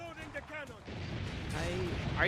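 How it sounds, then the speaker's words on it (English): Cannon fire in the video game Assassin's Creed: Brotherhood booms as a sustained, heavy blast under voices talking over the game. "I'll just go over to this cannon right here."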